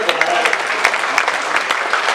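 Audience clapping at a Sanatan conclave poetry gathering, a loud, continuous mass of hand claps close by, with sharper individual claps standing out throughout.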